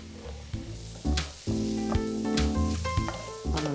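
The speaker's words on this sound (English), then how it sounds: "And in go the mushrooms. So I'm just going to saute those for about 10 minutes" Mushrooms sautéing in a pan for beef bourguignon, a steady sizzle broken by repeated clanks and scrapes of stirring, close and moderately loud with no talking.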